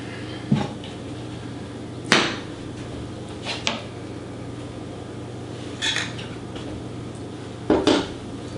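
A crepe (Italian scrippelle) is flipped in a pan, giving a few sharp clanks and taps of pan and utensil spaced out over several seconds against a low steady hum, with no one talking.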